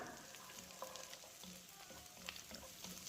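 Onions sautéing in a pan for Arabian mutton mandi give a steady, close sizzle and crackle with light stirring scrapes throughout, no voices.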